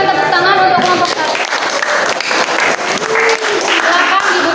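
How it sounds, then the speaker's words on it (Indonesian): Loud classroom applause for group 1 during a teaching practice session: a close, dense clatter of many hands clapping, with voices and chatter mixed in throughout. "Berikan tepuk tangan untuk kelompok 1"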